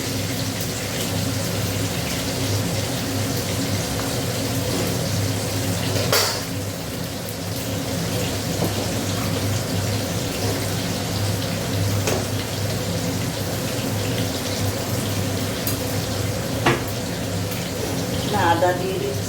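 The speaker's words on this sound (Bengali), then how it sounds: "এখানে দেখো আলুটা ভেজে নিচ্ছি" Potatoes fry in a pan with a continuous, dense sizzle like steady rain, an occasional louder spatter and a faint voice and background sound mixed underneath.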